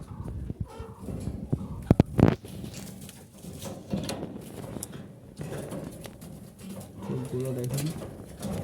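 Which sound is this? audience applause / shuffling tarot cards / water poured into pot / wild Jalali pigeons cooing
wild Jalali pigeons cooing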